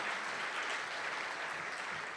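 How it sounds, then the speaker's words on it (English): Steady, dense audience applause at an evening fundraiser bash, a continuous wash of many hands clapping at close range, loud and even throughout with no talk over it. "So now a big applause."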